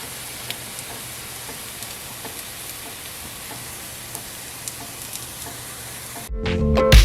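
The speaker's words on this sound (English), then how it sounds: "I'm gonna fry them in some coconut oil over medium heat for about 2 minutes per side." Mochi cakes frying in coconut oil over medium heat, a steady close sizzle with faint scattered pops that cuts off into a brief louder scraping clatter near the end, with no talking.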